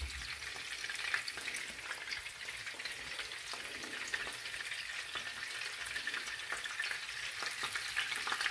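Battered shrimp fry in hot oil, a steady crackling sizzle with dense fine pops throughout, close and even with no talking.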